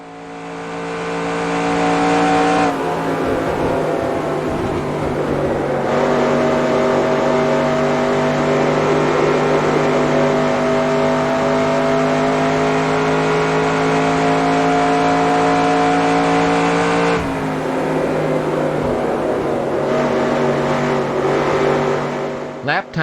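A race car lapping Charlotte Motor Speedway in NASCAR Racing 2002, its engine droning loud and steady at high revs, with two abrupt shifts in pitch as it runs through the turns.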